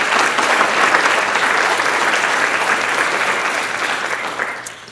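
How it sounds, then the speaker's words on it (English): A lunch crowd at a chamber of commerce congressional event bursts into loud, dense applause that holds steady and then begins to fade near the end. "Can we have a round of applause for LTV?"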